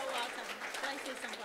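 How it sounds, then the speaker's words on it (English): Audience at a women's day lecture series clapping together in a hall, a dense, steady patter of many hands at moderate loudness, with crowd chatter mixed in throughout. "clap for the basket"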